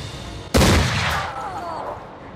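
Video game gunshot: one sharp, loud blast after a short quiet lead-in, followed by a rumbling echo that slowly fades.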